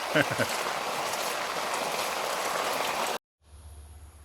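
Tap water pours steadily while eggs are washed, a close, continuous broadband rush lasting about three seconds before cutting off abruptly, followed by a quieter low hum.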